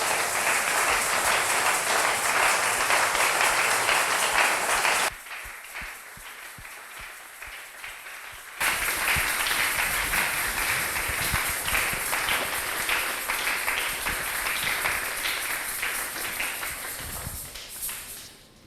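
A church congregation at a Sunday service applauding, with dense, loud clapping from many people. It stops abruptly for a few seconds, then surges back to full strength and slowly fades toward the end.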